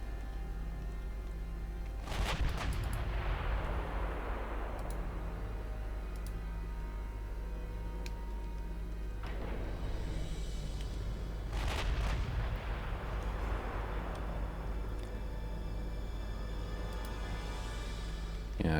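Heavy naval guns on early dreadnought-era warships firing in Ultimate Admiral Dreadnoughts, two distant booming salvos several seconds apart, each rolling out into a long rumbling decay over a steady low hum.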